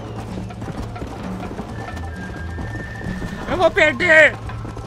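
A horse's hooves galloping in the Red Dead Redemption video game, a fast steady clip-clop under continuous excited talk, with a loud whinny-like neigh near the end.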